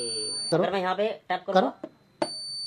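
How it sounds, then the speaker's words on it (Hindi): A motion sensor alarm in a home science experiment, set off by a small movement, sounds a steady high electronic tone that stops while someone talks and then starts again near the end. "सेंस कर लिया और अलार्म बजने लगा"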